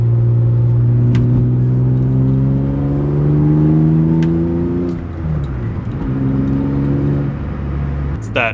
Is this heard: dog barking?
no